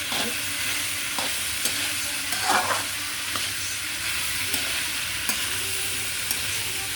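Masala spices frying in oil for mutton curry give a steady, close hiss of sizzling, broken by soft scraping clicks of a spoon stirring the pan now and then.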